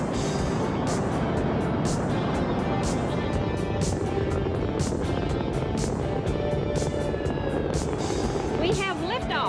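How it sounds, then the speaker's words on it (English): Spaceship rocket launch at liftoff: a continuous, loud, broadband roar that fills the whole stretch without letting up, with a voice speaking over it. "We have liftoff."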